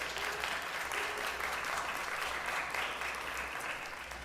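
A crowd claps steadily in the Los Angeles city council chambers, dense continuous applause filling the room at moderate loudness over a low hum.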